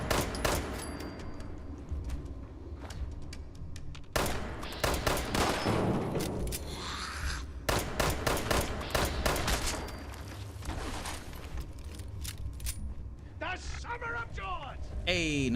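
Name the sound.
gunfire from shooting in video game Fallout 76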